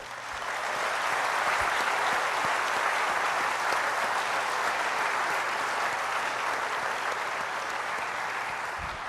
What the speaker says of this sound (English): I wonder if we could all have a round of applause for Bill Smith